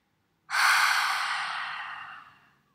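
A single long, breathy exhale during a yoga flow, rising sharply and then fading slowly over about two seconds, close and fairly soft, with no talking.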